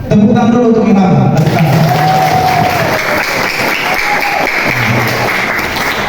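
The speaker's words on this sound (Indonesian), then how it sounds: "Tepuk tangan dulu untuk Ilham." A crowd at a school community-outreach talk on education breaks into sustained applause, with dense clapping and some cheering that starts loud and holds steady for several seconds.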